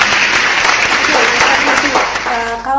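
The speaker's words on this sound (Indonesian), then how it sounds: "Tepuk tangan dulu semuanya." An audience claps in applause at a talk show discussing the G20 summit in Bali, a dense, steady patter of many hands that tapers off near the end as a voice begins speaking.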